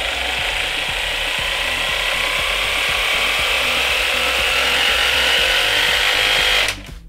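A cordless hammer drill set to its 70% chisel mode runs up gradually into a loud, steady, rattling mechanical whir close by. It holds for several seconds and then cuts off abruptly near the end.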